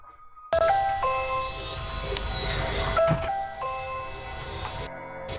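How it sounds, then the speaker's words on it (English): Ring video doorbell chime sounding indoors, a clear electronic multi-tone melody ringing at moderate level and repeating, with no talk over it. "you can hear the Ring doorbell going off, alerting the homeowner to someone at the door."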